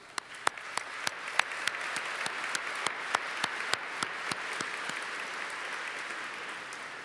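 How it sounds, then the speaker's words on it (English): A roomful of people claps at a business awards event honoring companies for gender diversity, steady applause building and holding for several seconds with a few sharp individual claps standing out. "So I want to applaud you all."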